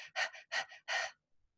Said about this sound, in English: explore a simple pant, like you're a puppy dog panting